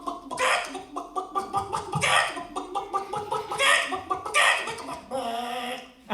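A man imitates a squawking rooster with his own voice, giving a run of raspy, throaty squawks and clucks in irregular bursts.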